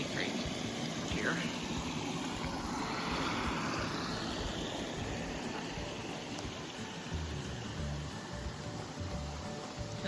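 Water flowing near the headwaters of Muddy Creek on the Ouachita Trail, a steady, soft outdoor rush with faint broadband hiss, continuous and moderately distant, with brief low murmurs toward the end.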